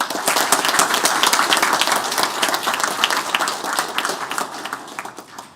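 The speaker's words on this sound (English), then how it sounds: "could we just give them a round of applause?" An audience claps together at a group presentation, a dense steady applause that stays loud throughout and fades slightly toward the end, with no talking over it.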